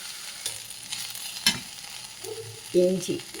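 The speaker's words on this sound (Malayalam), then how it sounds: "ഒരു 4 ഉള്ളി, 2 വെളുത്തുള്ളി, ഒരു കഷ്ണം ഇഞ്ചി വേണം. അതിതൊന്ന് മൂക്കട്ടെ." Onion, garlic and ginger sautéing in a pan for a green chutney, with a quiet sizzle and a few scraping stirs of a spoon against the pan, close and fairly soft.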